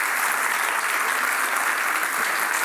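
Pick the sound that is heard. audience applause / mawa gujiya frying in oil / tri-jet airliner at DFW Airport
audience applause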